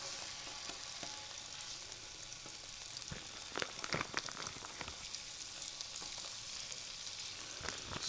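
Turkey sausage links frying in a pan with a little oil, giving a soft, steady sizzle broken by sharper pops and crackles, heard close and alone.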